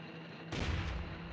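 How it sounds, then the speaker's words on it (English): A single loud gunshot in the video game Nancy Drew: The White Wolf of Icicle Creek bursts out suddenly after a quiet hum and trails off in a short echoing tail. "A gunshot!"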